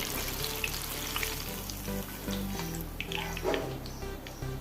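Banana fritters (pazham pori) deep fry in oil with a soft, steady bubbling sizzle, fairly quiet and close, with faint clinks and watery splashes mixed in and no talking.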